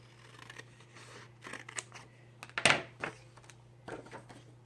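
Scissors cut a sheet of paper-type material in half while making a handmade traveler's notebook, one short crisp snip standing out near mid-clip over quiet room hum and faint handling.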